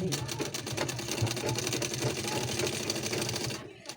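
A sewing machine runs steadily, stitching a puff sleeve with lace for a sleeve design, with a quick regular rhythm that stops near the end.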